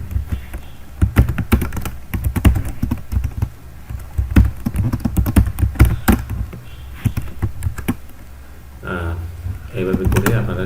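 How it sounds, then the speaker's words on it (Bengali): Bangla text is typed on a computer keyboard in quick, uneven bursts of close, crisp key clicks, with a person talking over parts of it. "কিবোর্ড না দেখে আপনারা টাইপ করতে পারবেন"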